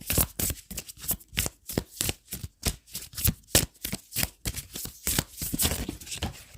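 Oracle cards are shuffled by hand in quick, rhythmic riffling bursts, each a crisp papery slap, repeating steadily and close with no talking.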